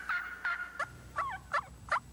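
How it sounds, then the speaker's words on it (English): A wild-turkey mouth call, the diaphragm type once used to win a calling contest, sounds a series of about six sharp, close hen yelps in an even rhythm with no talk. "the mouth call is still the most widely used turkey call"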